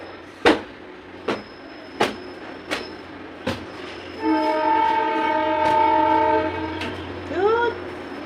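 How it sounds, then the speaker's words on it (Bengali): A train passes close by a railway line, with several sharp clanks followed by a long, loud horn blast that holds for a few seconds before fading. "দেখো কোথায় বেশি ট্রেনের আওয়াজ, দেখো।"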